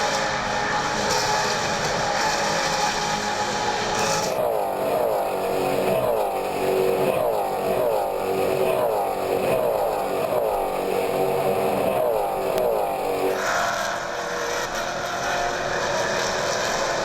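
Maserati Trofeo race cars at the Road America circuit roar past at a distance, engines droning steadily with a denser, surging passage in the middle as the pack sweeps by.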